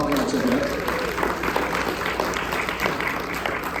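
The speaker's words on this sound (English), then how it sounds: "let's have a round of applause for all those who come to an Alianța event" An audience claps at a Romanian community summit in Chicago, a steady moderate round of applause with crowd murmur and a voice briefly heard under it.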